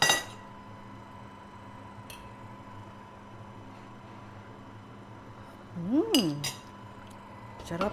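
A metal lid set onto a cooking pot of sinigang, a short clattering clink with a ringing metallic wobble, close and fairly loud over a quiet background hum.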